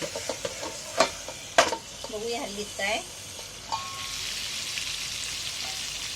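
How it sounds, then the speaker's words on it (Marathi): Stuffed tomatoes fry in a kadhai with a low sizzle and a few sharp knocks from stirring and the pan, heard beneath someone talking. "कढईमध्ये टोमॅटो टाकून आता मी आहे ना तशीच हलवते"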